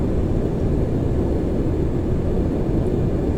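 Lockheed L1011 TriStar airliner in the Prepar3D flight simulator during a low-level run with throttles eased back, giving a continuous loud, broadband jet engine roar that holds steady without speech.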